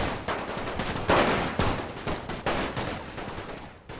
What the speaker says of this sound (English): So Latvian riflemen firing back at us.